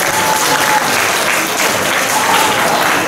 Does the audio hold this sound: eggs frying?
no